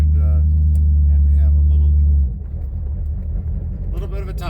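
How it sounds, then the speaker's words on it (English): A manual car's engine revs loudly with a deep droning rumble, then drops to a lower rough churn as it moves through the gears on the road. "you're going to hear that just distinct motor as it gets to a certain RPM"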